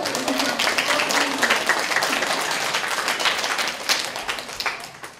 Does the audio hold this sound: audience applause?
yes